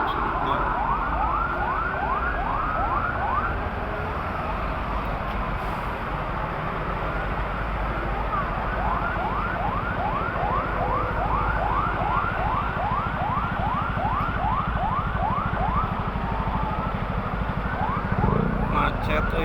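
Police patrol car siren on a congested Jakarta toll road, a repeating wailing sweep cycling steadily for the whole stretch over constant traffic noise.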